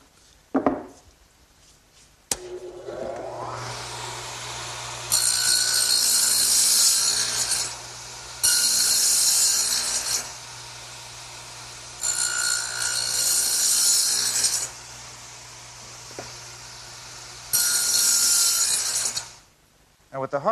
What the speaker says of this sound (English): while I have the dado head set up in the radial arm, I want to make this end piece for my tool storage area